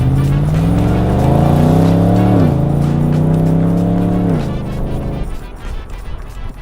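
A Nissan Patrol engine hums through a Beaudesert 2.5 to 3-inch exhaust, a loud, deep steady drone that rises slightly, dips, then eases off toward the end.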